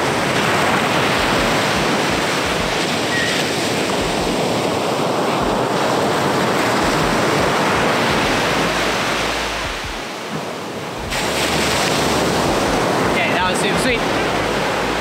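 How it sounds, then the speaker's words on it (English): Ocean waves breaking close up on a beach, a loud, continuous roar of surf that briefly eases before surging back. "I'll do one way close up of the waves"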